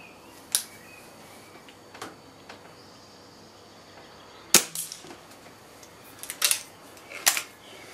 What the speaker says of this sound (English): I'm just shooting at 37 yard spinners.